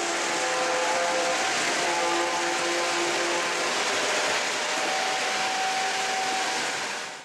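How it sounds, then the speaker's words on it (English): A Lionel Legacy Texas Special model passenger train runs with a steady, close, continuous whir and hum that holds evenly throughout, with faint tonal whines layered over the motor noise and no voices. "This is the Texas Special Lionel Legacy set."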